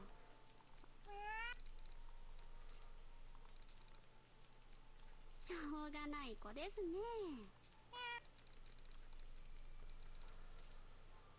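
A starving kitten in the video game Action Taimanin gives several thin, rising meows, some spaced apart and one drawn-out pair near the middle, over quiet background noise and light keyboard tapping.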